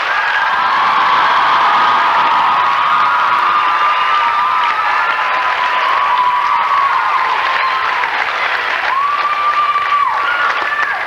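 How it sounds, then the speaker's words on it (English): A large audience at a school pageant applauds loudly and continuously, with cheers and whoops rising above the sustained clapping. "let's have one final round of applause for our 15 finalists"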